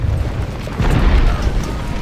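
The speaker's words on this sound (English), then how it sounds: "one volley is going to destroy the skirmishers" A heavy, rumbling musket volley roars from massed infantry in Ultimate General: Civil War, a loud, continuous crackling boom that swells in the middle and holds without a break.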